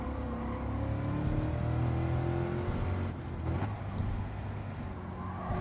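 A race car engine at speed in Gran Turismo 7 during a WTC 600 race on the Tokyo Expressway, holding a steady loud drone with shifting pitch and brief dips as gears change.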